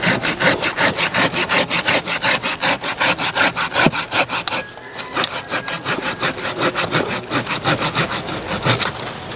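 A hand saw cuts through a kimeng bonsai branch in fast, even back-and-forth strokes, loud and close, with a brief pause midway before the rasping rhythm resumes.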